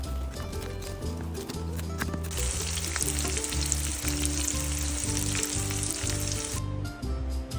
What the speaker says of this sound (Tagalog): isusunod ko ng iprito ang tokwa